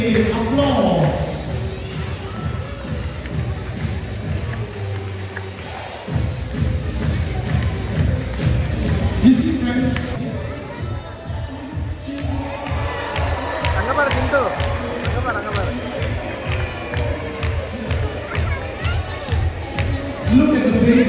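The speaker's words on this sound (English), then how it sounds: "Continue applause." A noisy crowd at a dolphin and seal show at an indoor dolphinarium, with rhythmic clapping and cheering under continuous amplified talk from a presenter and children's voices.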